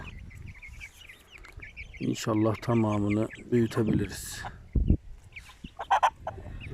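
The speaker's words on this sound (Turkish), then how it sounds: "Beş tane horoz var." Five young Indian gamefowl roosters crow and cluck nearby in a short, strained burst among scattered clucks, while someone talks over them.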